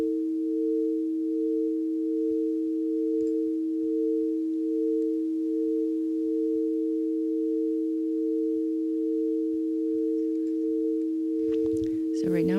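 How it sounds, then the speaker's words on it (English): A synthesizer holds a steady, unwavering sine-wave tone with sine-wave modulation for about twelve seconds, then breaks into a brief burst of quick rising chirps at the very end. "So right now it's on a sine wave modulation envelope"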